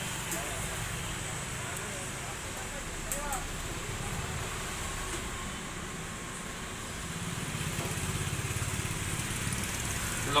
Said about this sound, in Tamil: நம்ம மோட்டார் மட்டும் போட்டு ஆன் பண்ணி பார்க்கலாம் இப்போ ஆன் ஆகுதுன்னு பார்க்கலாம்